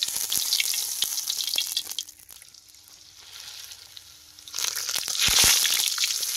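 Rice papads frying in hot oil: a loud hissing sizzle with crackly pops that dies down to a faint simmer, then flares up again as another papad goes in, heard close and without any talk.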